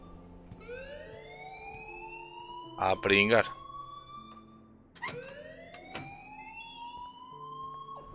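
A fire alarm rings in the video game Life Is Strange, its rising electronic tones repeating near and loud, with a brief harsh burst in the middle as a voice talks over it.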